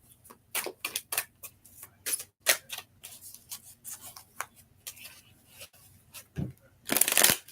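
Serendipity Tarot cards being shuffled up close, with repeated crisp riffling bursts and soft slaps in an uneven rhythm, ending in a longer, louder shuffle.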